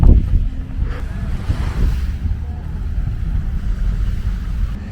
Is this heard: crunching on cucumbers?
no